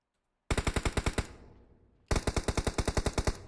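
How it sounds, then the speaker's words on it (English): Automatic gunfire in the PUBG Mobile video game during a tournament match, two loud rapid bursts of evenly spaced shots separated by a decaying echo, with no voices. "It's going to be a headshot at the hands of Team Aces, PX18."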